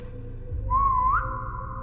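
A single whistle from a video game sounds clearly on its own, one short rising tone that holds steady for about a second over a low hum.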